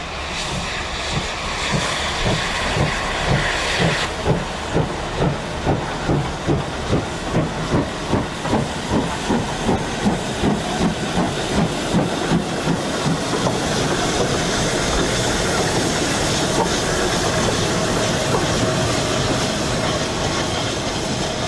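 Steam locomotive Rood Ashton Hall runs on the line into Birmingham Snow Hill. A rhythmic chuffing exhaust beats loud and close, then gives way to a steady roaring hiss of steam, with no voices.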